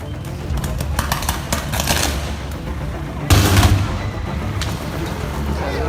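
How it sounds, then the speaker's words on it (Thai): Crackling and popping bursts amid steady rumbling noise, with one sharper, heavier bang partway through, as a street electrical transformer and overhead cables arc and explode at several points. "กองแปลงระเบิดนะครับ นี่ครับหลายจุดเลยครับ"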